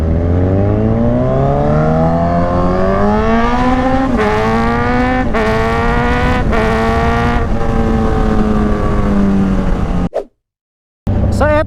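A loud, close vehicle engine on a Bulacan highway among truck traffic revs up and shifts repeatedly, its pitch climbing and dropping. The sound cuts out briefly near the end, with no voices.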